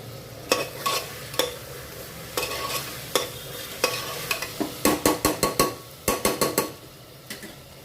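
A spoon stirs a bottle gourd and masoor dal curry with tomato in a pan, scraping and clinking against the metal in uneven strokes that turn into a quick run of sharp taps, close up with no talking.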